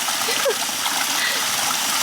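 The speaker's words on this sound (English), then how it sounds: "I just fill the bowl and then I start watering everything" Water splashes and pours from a bowl onto zucchini and squash plants in a garden, a steady close splatter with a brief voice underneath.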